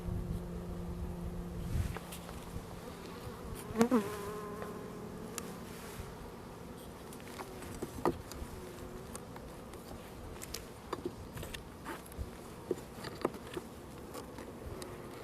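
Honey bees buzzing around an open beehive during a hive tour, a steady low insect drone with scattered brief bursts and soft handling noises, moderately faint and continuous throughout.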